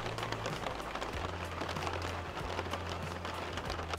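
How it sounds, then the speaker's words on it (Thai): Steady rain falls outdoors with some small hail, a dense, even patter of drops on surfaces, fairly soft and continuous with no voices. "ฝนยังตกอยู่ค่ะแล้วก็ดูท่าทาง จะไม่หยุดนะคะ"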